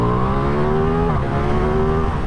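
Engine of a 2023 Ducati Diavel V4 motorcycle, a steady, loud, close drone with a brief dip and rise in pitch midway, droning continuously throughout.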